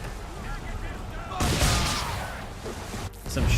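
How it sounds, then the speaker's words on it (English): Cannon and gunfire from a naval battle in Assassin's Creed 3, a dense sustained barrage of booms and crackling shots that swells midway and stays loud, with a brief lull near the end. "Some shooting too early."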